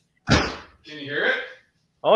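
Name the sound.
car door slamming shut on a Fox-body Mustang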